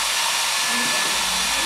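A hair dryer blows a steady stream of air to hold a ball aloft, a loud, close, continuous whooshing hum with a faint tonal whine and no break.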